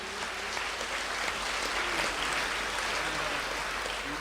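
A worship congregation claps together in praise, a continuous, evenly loud wash of applause lasting several seconds, with faint voices beneath.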